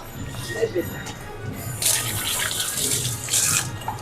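Water running from a tap into a vessel in a Konkan village, a continuous splashing gush that swells louder at moments, with people talking nearby.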